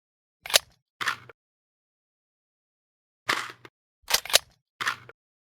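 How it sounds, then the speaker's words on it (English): A video game rifle bolt slams home in sharp metallic clacks: two close together, a pause, then three more, each crisp and isolated against silence. "We're going to change this to bolt slam home."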